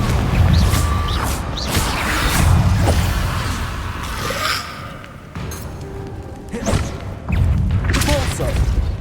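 Confringo blasting spell from Hogwarts Legacy bursts out in several loud thumping, crackling impacts with whooshing swells, recurring across the stretch amid continuous combat noise.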